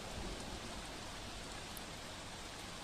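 Heavy monsoon downpour over Surat, India, where streets are flooding, gives a steady, dense wash of rain noise that holds evenly for the whole stretch with no voices.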